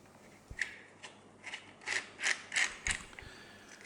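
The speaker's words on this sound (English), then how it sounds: "Remove this bolt." A ratchet wrench loosens a hex bolt beside a motorcycle headlamp, giving several short bursts of close metallic clicking, with a clunk near the start and no speech.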